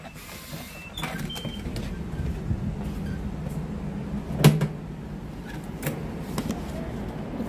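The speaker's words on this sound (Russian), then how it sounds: "Вот эти вот мусорные ящики я сама покупала, на Купане заказывали." Plastic trash sorting bins in a home kitchen are opened and shut, giving several short knocks and clacks, one louder thud near the middle, over a low background hum.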